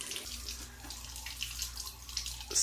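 Steady running water pours and splashes continuously as a water heater tank drains, moderately loud and close, with no voices.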